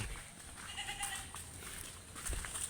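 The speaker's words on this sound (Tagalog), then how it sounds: "mga kambing" Goats bleat faintly on a farm along a mountain trail, their calls sitting low under steady outdoor background noise and wind.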